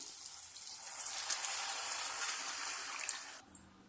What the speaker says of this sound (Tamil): கத்திரிக்காய் மூழ்கி வேகிற அளவு தண்ணி சேர்த்துக்குவோம்